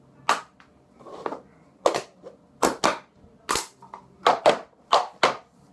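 Cup-song pattern of hand claps and cups tapped and set down on the floor, about a dozen sharp, close hits in an uneven rhythm over a quiet room, each short snap clearly separated.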